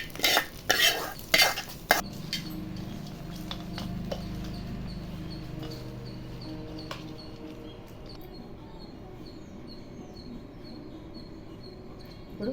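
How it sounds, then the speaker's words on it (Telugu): Fried tempering being mixed into cooked rice for mango pulihora: several quick scraping clinks of a spoon against a vessel at first, then soft mushy stirring sounds fading to a faint, quiet hum. "ఇప్పుడు వేయించినవి ఇప్పుడు అన్నంలో కలుపుకోవాలి"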